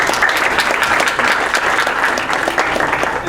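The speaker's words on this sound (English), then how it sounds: "let's give them a round of applause" Audience applause at a school district board of trustees meeting, honoring two staff members: steady, dense clapping from a room of people, sustained and fairly loud throughout.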